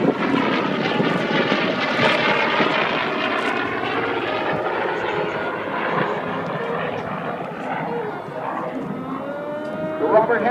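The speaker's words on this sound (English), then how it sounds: "Robert Hampton Gray, Goodyear FG1D Corsair from Vintage Wings Canada, to be precise." A Goodyear FG1D Corsair, a vintage propeller warbird, flies at the 2013 Hamilton air show, its engine a loud, sustained roar that holds steady throughout with no talk over it.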